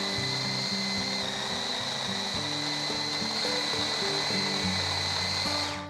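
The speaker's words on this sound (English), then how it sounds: "Start by blitzing dried apricots in a food processor until they form a thick, sticky paste." A food processor blitzes dried apricots with desiccated coconut into a thick, sticky paste, its steady motor whir running loud and continuous for several seconds before it cuts off at the end.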